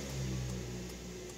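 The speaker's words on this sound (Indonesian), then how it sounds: "itu adalah cold startnya" A 2008 Suzuki Neo Baleno with manual transmission idles steadily after a cold start, its engine hum low and continuous, heard close through a slightly open door.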